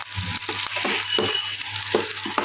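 Green chillies frying in a pan with steady hissing sizzle, broken by repeated scraping stirs of a spoon at an irregular rhythm, close up, with no talk.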